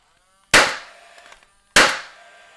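A Paslode 16-gauge angled finish nailer fires two sharp, loud pneumatic bangs about a second apart, each followed by a short hiss of decaying air.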